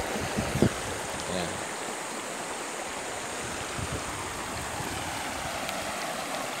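Fast river water rushes steadily in the Holcim River at Norzagaray, Bulacan, a dense continuous wash of flow heard from nearby, with a brief clunk near the start.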